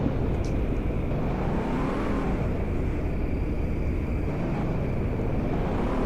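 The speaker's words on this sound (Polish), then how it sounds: "Zwykłe BMW teraz Wam pokażę, jak ono w zakręty wchodzi." An ordinary BMW driving in the Polish Car Driving game gives off a continuous, loud, even engine and road roar with no breaks or talking throughout.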